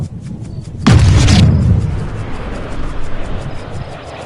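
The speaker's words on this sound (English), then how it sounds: "Frank, did you hear the sound of that coming off the club face? It was like a cannon." In a PGA Tour video game on PS4, a club strikes the ball with one loud, booming crack, followed by a rushing roar that trails off under steady background noise.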